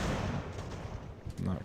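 Musket volley in the strategy game Ultimate General: American Revolution, a loud, dense rumble of massed gunfire filling the whole short stretch, with a voice over it.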